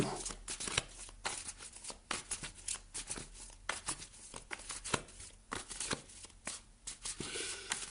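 Tarot cards being shuffled for a reading, a close, quiet run of crisp riffling flicks and soft slaps repeating in an irregular rhythm with no talking.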